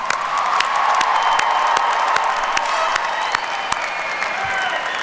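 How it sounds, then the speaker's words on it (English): Applause from the audience at a college commencement in science and technology, a sustained, dense round of clapping with scattered cheers lasting several seconds. "One more round of applause."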